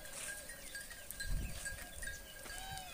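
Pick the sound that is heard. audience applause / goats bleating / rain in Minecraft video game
goats bleating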